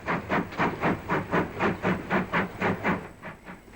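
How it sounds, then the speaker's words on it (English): A steam locomotive hauling a train across the Wirral Peninsula barks out a steady, rhythmic exhaust beat, about three chuffs per second, loud and close with a hissing undertone. "in full flight storming through the Wirral Peninsula. It was possible to hear the bark of the exhaust over 10 miles away."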